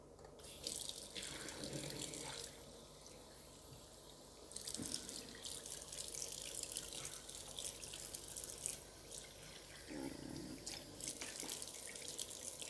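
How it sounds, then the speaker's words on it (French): Water poured over a surface treated with an anti-limescale nano coating, a steady close splashing run of water with a few brief breaks and no talking. "Donc simplement en versant de l'eau."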